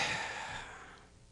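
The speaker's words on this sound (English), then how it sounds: "As we simply take a deep breath" A long, audible exhale of a deep breath during a prayer, breathy and close, fading gradually into quiet.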